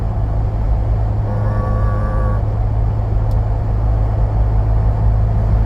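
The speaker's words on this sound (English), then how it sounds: "Actually, now with this muffler, I can hear every gear change, but that's about it." Deep, steady exhaust rumble from a 2024 Ford Bronco fitted with an aFe muffler, droning low and constant while driving, with a brief whine partway through.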